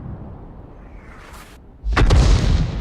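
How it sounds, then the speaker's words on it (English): Artillery fire in a tank video game, featuring the Pz.Sfl.IVb self-propelled gun: a quiet stretch of low rumble and a faint swish, then a sudden loud, close boom with a sustained roaring tail filling the rest. "there's the other Arty. So he's fired one in"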